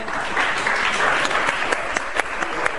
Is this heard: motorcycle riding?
no